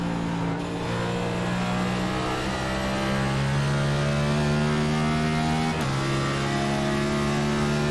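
NASCAR Cup Series race cars at WWT Raceway at Gateway in the iRacing simulator, a loud sustained engine drone at high revs with a brief pitch dip as a gear or throttle change occurs, steady and close throughout.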